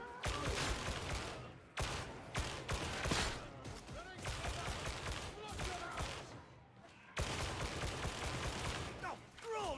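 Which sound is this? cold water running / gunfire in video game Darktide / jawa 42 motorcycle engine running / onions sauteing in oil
gunfire in video game Darktide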